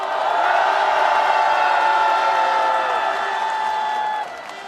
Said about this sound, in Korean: 뜨거운 격려의 박수 보내주시면 좋겠습니다